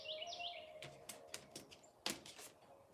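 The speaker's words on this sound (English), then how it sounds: "You hear the bird?" A bird chirps nearby in short bright calls, with faint tapping and clicking sounds scattered through a quiet indoor setting.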